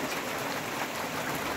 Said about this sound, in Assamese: কিন্তু হঠাৎ বৰষুণ আহিল